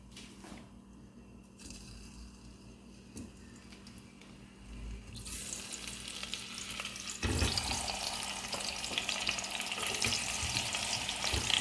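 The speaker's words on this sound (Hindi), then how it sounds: "फर्स्ट चीज़ हम जो करेंगे is to fry the potatoes" Big potatoes frying in hot oil in a pressure cooker, for a Hyderabadi mutton khorma: a quiet simmer at first that swells into a loud, steady sizzle, surging again partway through as the frying intensifies.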